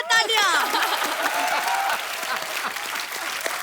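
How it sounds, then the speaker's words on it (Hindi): A comedy talk show studio audience breaks into loud, dense applause that starts with a cheer, then continues steadily and slightly fades, with a voice speaking over it at the start. "बहुत बहुत तालियां।"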